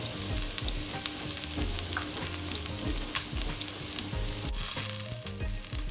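Ginger, garlic and chili flakes fry in a hot pan for salmon with Asian vegetables, giving a steady, close sizzle with a few stirring scrapes and clinks throughout, no voices.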